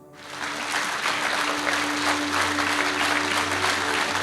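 Warm, sustained applause from a theatre audience at a film premiere anniversary, rising quickly from quiet into dense, even clapping that holds strong to the end.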